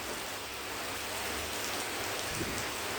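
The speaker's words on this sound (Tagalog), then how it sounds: "Ito yung ulan sa Abu Dhabi po." Dense, heavy rainfall in Abu Dhabi roars in a steady, unbroken wash of noise, close and loud, with no voices.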